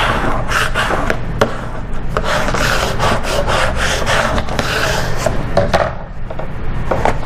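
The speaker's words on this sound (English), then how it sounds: "now we're going to go ahead and squeegee that down" A squeegee is pressed and dragged over adhesive vinyl, producing loud, close scraping and rubbing strokes in a quick, irregular rhythm, with no talk.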